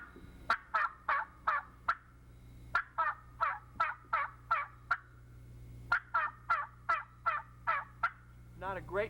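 A turkey call imitating a young gobbler's yelp, three distinct runs of slow, deep, evenly spaced yelps, seven or eight notes each, clear and close with no talk.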